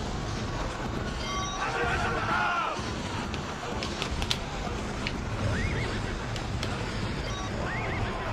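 Horses neigh and whinny in the Odama video game, with game sound effects, hoofbeat-like clatter and someone talking over them throughout.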